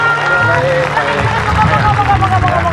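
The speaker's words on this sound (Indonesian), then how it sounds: "kita kasih tepuk tangan dulu dong buat Mas Nurbayan." Talk-show audience applause fills the clip, with dense, steady clapping and crowd noise from start to end, loud and close.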